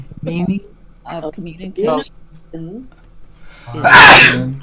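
A person sneezes once, loudly and close by, right after a few spoken words during a talk, the sneeze bursting out sharply at the end.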